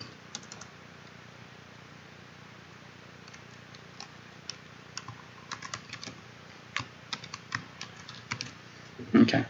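Quick, irregular clicks of typing an equation on a computer keyboard, faint and fairly near, in short bursts over a quiet room hum, getting busier toward the end.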